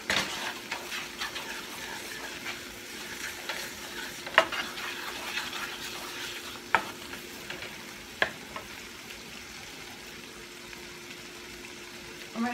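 Flour cooks in oil for a roux for smothered potatoes, giving a soft, steady sizzle with a few light stirring clicks throughout.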